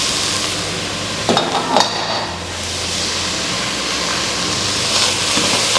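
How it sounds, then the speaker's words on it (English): Onions frying for mutton biryani, a continuous loud sizzle with a couple of sharp clinks and scrapes as they are tossed in the pan, and no talking. "Give a gentle toss of all the onions until it gets golden brown"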